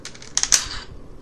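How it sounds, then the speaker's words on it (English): A Power Rangers Legacy Blade Blaster toy gives a quick run of sharp plastic clicks, a few light taps followed by three crisp louder snaps close by, then quiet. "it makes that nice clicking sound"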